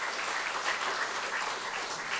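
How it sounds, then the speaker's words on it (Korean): Church congregation applauding during a Sunday morning service, a dense, steady wash of many hands clapping at once, even in loudness for a short burst with no voices over it. "우리 박수 한번 드리세요"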